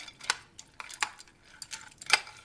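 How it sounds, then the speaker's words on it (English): A spoon scrapes and clinks against a dish while breaking up homemade wet dog food, giving a few sharp taps spaced irregularly over quiet, close-up sounds with no talking. "Then I'm going to take a spoon, and I kind of break it all up, just like so."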